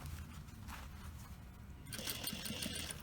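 A sewing machine stitches along a jean hem. A low mechanical hum runs through the first part, then a louder, brighter whirring of fast stitching takes over for the last second.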